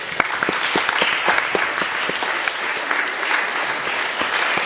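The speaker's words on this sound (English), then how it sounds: "I wonder if we could give a big clap to everybody." A church congregation claps together at an all-age service, steady sustained applause from many hands filling the room, fairly close and even throughout with no talking over it.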